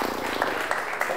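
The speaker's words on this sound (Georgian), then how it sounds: "აპლოდისმენტები გიორგის." A student quiz-show audience claps briefly for Giorgi after his round, a short burst of steady applause that runs the whole moment with a voice mixed in.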